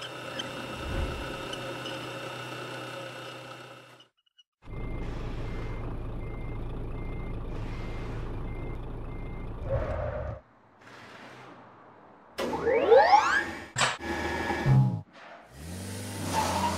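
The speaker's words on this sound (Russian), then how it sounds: "Машины заезжают на автовоз." In a cartoon, cars drive up onto a car transporter truck: bursts of engine roar come and go between pauses, then rising electronic reversing beeps and truck sounds follow toward the end.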